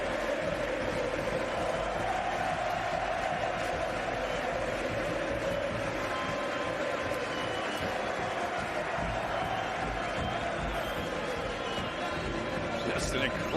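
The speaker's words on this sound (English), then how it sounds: "And listen to this crowd." Stadium crowd roaring at a Chile versus Samoa rugby match, a steady, loud wall of cheering and noise that holds throughout without a break.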